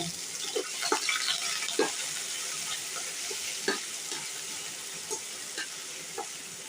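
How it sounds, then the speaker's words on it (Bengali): Chopped onion and garlic fry in a pan for a cauliflower vorta, with a steady close sizzle broken by scattered scrapes and taps of stirring. "এখন আমি এখানে পরিমাণ মতো পেঁয়াজ কুচি, পরিমাণ মতো রসুন দিয়ে ভেজে নেব।"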